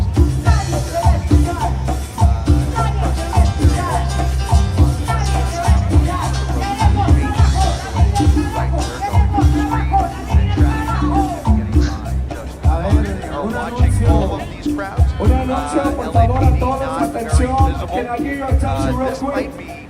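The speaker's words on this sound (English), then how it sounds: "About, I would say, close to 200 people in this crowd now waiting to see the flags." A crowd of about 200 protesters waits on Main Street near Olivera circle, a continuous murmur of many voices with louder nearby talk over it.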